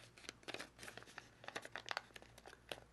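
Sheet of origami paper being folded along a crease and pleated while shaping a flapping dragon, giving a run of close, soft crinkling and crisp crackling bursts over about three seconds.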